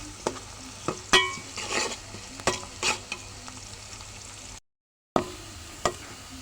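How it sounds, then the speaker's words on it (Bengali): Onions frying into crisp birista for biryani, a constant sizzle broken by sharp spatula scrapes and clinks against the pan, with a brief silent gap near the end. "এই যে পেঁয়াজটা আমি বেরেস্তা ভাজা নিচ্ছি।"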